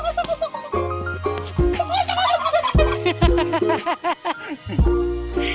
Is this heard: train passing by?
no